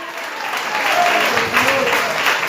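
A church congregation offers applause to God during a sermon, a steady, moderately loud patter of many hands clapping together, with voices mixed in beneath the clapping.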